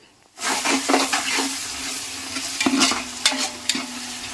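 Onions sizzle and fry in a pan for biryani while a spoon stirs them, with steady crackling and a few louder scrapes and clatters, close and alone without talk.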